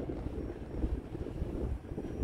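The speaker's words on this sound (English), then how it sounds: "we got a pretty strong wind going on." Strong wind buffets an outdoor microphone at a grass field where an E-flite A-10 Thunderbolt II twin 64mm EDF model jet is flown, a steady low rumbling roar that continues without a break, with no talking.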